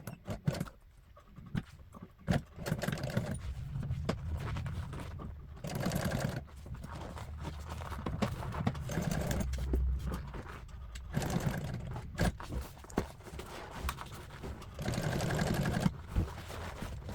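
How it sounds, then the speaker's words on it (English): An upholstery sewing machine runs a top stitch on a pocket for an MGB car seat, giving long stretches of low mechanical hum and rattling in bursts, with brief pauses and handling knocks between runs. "Now I'm going to sew a top stitch on the back side of that little pocket."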